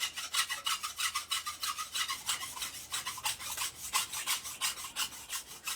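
A file drawn repeatedly across a machete blade, close rhythmic rasping strokes in a quick steady back-and-forth pattern, about two or three strokes per second, without any talk.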